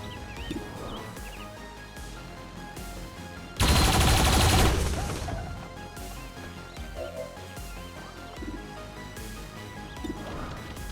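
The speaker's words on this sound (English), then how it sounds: "I love when all the turrets have a shot." Turrets open fire in the video game XCOM 2: War of the Chosen, a loud rapid burst of gunfire lasting about a second amid quieter battle effects and ambient game sounds.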